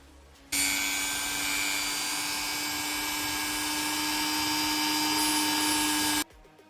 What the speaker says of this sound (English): with my handy dandy Dremel that I had purchased some time back to help me with these cutting jobs, I then cut out the section